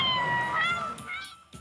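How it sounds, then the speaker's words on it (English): Cat meows ring out from the cardboard Nintendo Labo Toy-Con piano, a sustained tonal meow gliding up and down followed by a few shorter, fainter mews as it fades. "And cat sounds were just the beginning."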